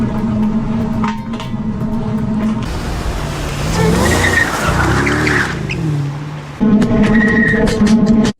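Road noise from inside a car tire while driving: a loud rolling roar with rumbling swells and squealing, whining tones, filling the whole stretch.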